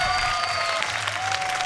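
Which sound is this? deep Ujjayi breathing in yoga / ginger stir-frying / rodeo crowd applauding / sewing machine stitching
rodeo crowd applauding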